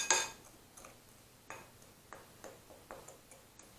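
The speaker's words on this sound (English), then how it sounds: "then we're going to mix those all together" A utensil stirs flour, spices and baking powder together in a bowl for a fruit cobbler, giving a sharp initial clink followed by light, regular scraping ticks about every half second, close and quiet.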